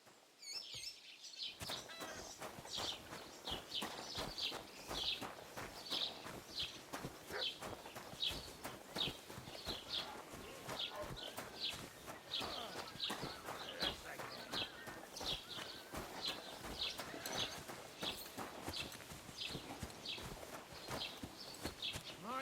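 Steady, rhythmic clip-clop of horse hooves in the video game Kingdom Come: Deliverance II continues throughout, with birds chirping faintly in the background.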